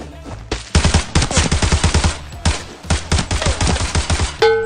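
Unsuppressed gunfire in the shooter game Arena Breakout: a loud, close, rapid automatic burst of shots, a short pause, then a second long burst, with no talking.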